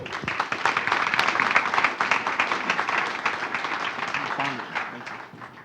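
Audience applause at a Jacuzzi corporate keynote introduction, dense steady clapping from a crowd that stays loud for several seconds and then gradually thins and fades.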